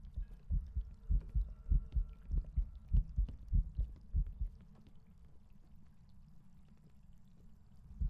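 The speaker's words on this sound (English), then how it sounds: "My heartbeat just did not sound like it was like bass boosted like most Raijus are." A player's heartbeat pounds in Phasmophobia, a deep bass-heavy double thump repeating rapidly for about four seconds before fading into a low hum, with no talk.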